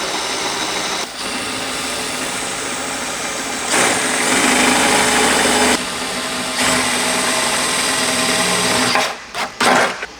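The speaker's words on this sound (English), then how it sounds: "we're gonna take our 5/16 drill bit. We're gonna go back through those holes." A power drill with a 5/16 bit bores back through pre-drilled holes while a hatch ladder is fitted to a 2010-2022 Toyota 4Runner, running loud and steady with a few brief pauses and a sputtering stop at the end.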